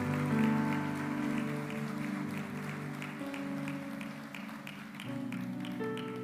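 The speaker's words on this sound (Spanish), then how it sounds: "Yo le daría un fuerte aplauso al Señor" A church congregation applauds in praise at a service, a soft, even rain of clapping from many hands underneath sustained organ or keyboard chords that shift now and then, fairly quiet and without speech.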